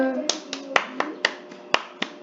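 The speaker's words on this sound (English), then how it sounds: "Clap your hands." Hands clapping about nine times in a steady, slightly uneven rhythm, sharp and close, with a faint voice at the start.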